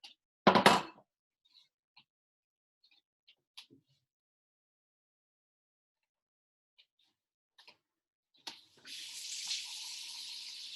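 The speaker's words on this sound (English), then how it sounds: "Rinsing out the jar right now so I can use it again." Tap water runs into a glass jar being rinsed out after mixing egg tempera paint, a steady hiss that begins near the end, preceded by a loud knock and a few faint clicks and taps.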